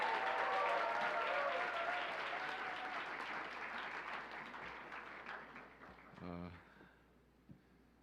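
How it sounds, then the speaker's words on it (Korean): A church congregation claps loudly to welcome the pastor, a dense burst of applause that gradually thins and fades, ending with a few scattered claps and brief sounds. "우리 큰 박수로 우리 목사님 모시겠습니다"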